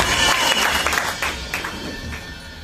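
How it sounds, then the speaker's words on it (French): A church gathering applauds for Jesus, a crowd clapping in a dense patter that starts strong and gradually thins and fades over a couple of seconds. "Applaudissons pour Jésus."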